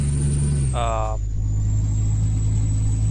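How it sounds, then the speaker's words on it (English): A simulated Kenworth W900B truck engine from a Euro Truck Simulator 2 mod drones steadily at a low pitch throughout, with a brief harmonic whine rising near the start. "you've got the sound profile for the engines and audio for the truck itself"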